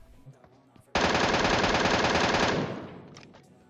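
An MK gun in a video game fires one loud, sustained automatic burst of rapid shots lasting over a second and a half, then its echo trails off, over quiet background game sound.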